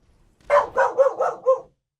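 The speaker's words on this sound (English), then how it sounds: "You probably heard Olive go crazy. Barking at the door, getting knocked." Dog named Olive barking at the door, a quick burst of five sharp barks in steady succession, fairly close and loud with no voices over them.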